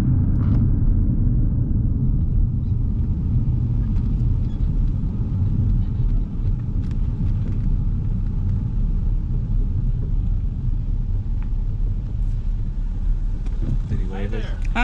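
A car rolling slowly through a state park campground, a low steady engine and road rumble with some wind buffeting, close and continuous, with people talking over it.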